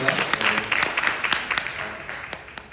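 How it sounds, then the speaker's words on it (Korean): An audience applauds with a dense patter of clapping that has a few sharper individual claps, gradually thinning out and fading over a couple of seconds. "박수 한번 쳐주시고 올리겠습니다"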